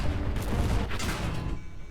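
Gunfire in a video game, a dense burst of shots and booms rattling continuously at close range before tapering off near the end, with no voices over it.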